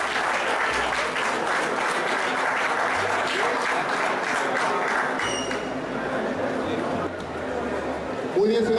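Sustained applause from a large crowd at an awards ceremony in Central America, steady and dense clapping filling the whole stretch, with a brief swell near the end.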